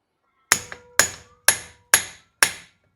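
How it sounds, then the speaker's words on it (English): An impact driver hammers out Phillips head screws from a motorcycle transmission during an engine teardown on an RD500, giving five sharp, loud metallic bursts about half a second apart, with a quick extra knock after the first, alone without talk. "taking the Phillips head screws for the transmission and using the impact driver"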